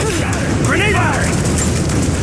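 In Rise of the Tomb Raider, a grenade launcher fires and its round explodes with a heavy boom and rumble, close and loud, amid game combat noise and shouted voices.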